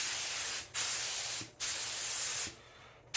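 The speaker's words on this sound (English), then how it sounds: "we're going to spray this because it was still in my sprayer" A spray gun sprays water-based poly onto a woodworking piece, an Easter empty-tomb decoration, in three steady hissing bursts, each ending in a short break, with the last burst quieter and thinner.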